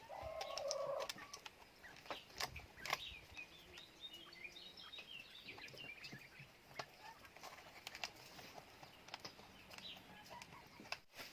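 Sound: chickens and birds in a farm garden

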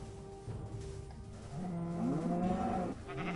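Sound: cows and sheep from video game Minecraft

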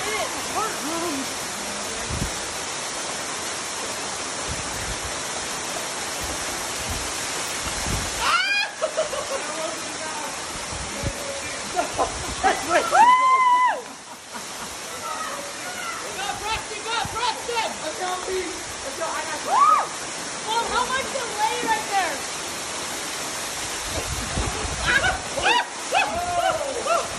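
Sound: waterfall on the Rocky Mouth Trail

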